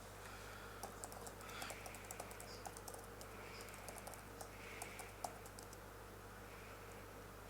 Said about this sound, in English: let me just type it out real quick